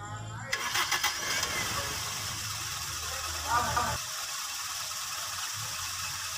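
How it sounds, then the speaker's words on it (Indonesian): A Toyota Kijang 5K engine cranks on its starter with a rapid whirring churn, then catches and settles into a steady idle, heard close up. "Kita tinggal coba menyalakan ya mesin ini, tinggal men-starter"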